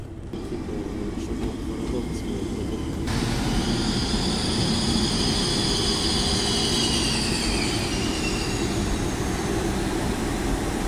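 A train bound for Paris rolls into a station with a loud, continuous rumble of wheels on rails and a high metallic squeal that rises midway and then persists, close by.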